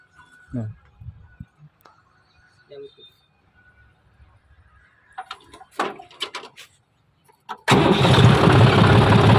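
A John Deere tractor engine cranks and catches, then settles into a loud, steady idle that fills the last couple of seconds, after some faint knocks, shuffling and brief voices at a farm workshop.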